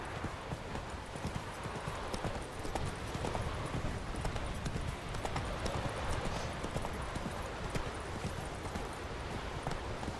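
A horse gallops in The Witcher 3 video game, a fast, continuous clip-clop of hooves with dense rhythmic thuds, steady and fairly close, with wind and ambient game noise under it and no speech.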